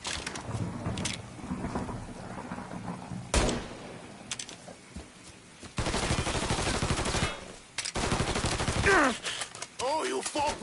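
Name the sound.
gunfire in the video game Mafia 3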